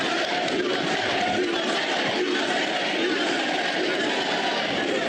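Big rally crowd roaring and shouting continuously, a dense, loud wall of voices filling the space without a break.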